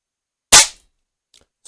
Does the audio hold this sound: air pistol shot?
yes